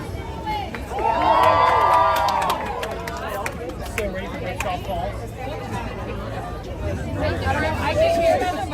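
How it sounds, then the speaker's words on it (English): A Disney World Magic Kingdom crowd cheers and claps in short bursts, with shouts rising and fading over a steady babble of nearby chatter. "I can hear the moments of people cheering and clapping as well."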